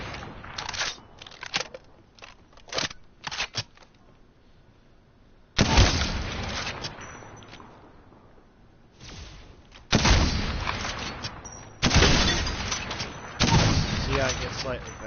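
Repeated gunfire from the Sentinel, a gun in the video game Apex Legends, in spaced loud blasts that fire faster as shooting continues, with several bursts of sharp shots standing alone.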